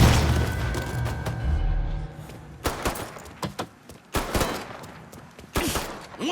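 Gunfire in the video game Mafia III, played on PS4: a busy low rumble of combat gives way to several sharp, separate shots at irregular intervals, fairly loud and with no talk over them.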